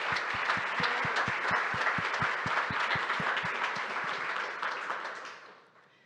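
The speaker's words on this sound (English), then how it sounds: "can you raise your hand and we'll give you a round of applause?" Audience applause at a startup demo day honoring the educators, a dense steady wash of clapping with some louder individual claps standing out, holding for about five seconds before fading away.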